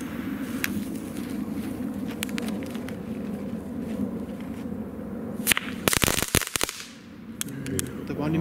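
Category 1 consumer firework crackling balls with small pellets, from a 2018 set test: dense bursts of crackling pops cluster mid-clip, a short sharp flurry over steady outdoor background noise with people talking nearby.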